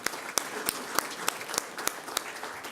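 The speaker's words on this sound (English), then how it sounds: "Well, one more round of applause for Trevor." Attendees at a school governing board meeting give a round of applause, modest room clapping with distinct loud claps recurring at a regular beat over roughly three seconds.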